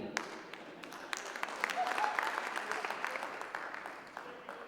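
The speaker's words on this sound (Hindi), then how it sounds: "तालियां 8-10 लोगों ने बजाई" Sparse applause from a small audience of about eight to ten people at a Hindi stand-up comedy show in Bangkok, a steady patter of scattered claps lasting several seconds at moderate volume with no talking.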